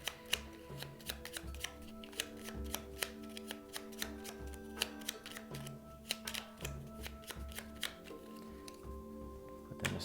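Cards from the agenda deck of the Fallout board game being shuffled by hand, quiet repeated riffles and taps in an irregular rhythm under faint background music, with no talk.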